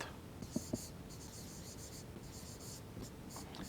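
A pen writes out a maths problem on paper in short scratchy strokes with brief pauses, faint and close against a soft background hiss, with a couple of small taps near the start.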